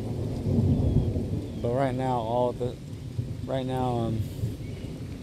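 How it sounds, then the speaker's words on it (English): Thunder rumbles low and steady during a rainstorm beside a flooded creek, alongside rain noise, while a person speaks briefly and a separate voiced sound rises twice mid-clip. "It's just thunder, nothing else."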